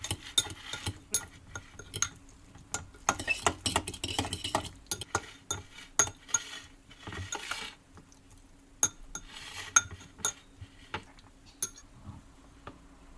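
A utensil stirs a crab and spinach flan mixture in a dish, irregular clinks and scrapes close by, some brisk runs and short pauses, fairly quiet with no voices.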